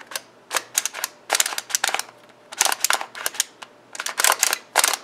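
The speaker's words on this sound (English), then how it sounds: "It clicks every time you turn." A Lan Lan skewb puzzle clicks sharply as it is turned, with bursts of rapid crisp plastic clicks separated by short pauses, close and alone.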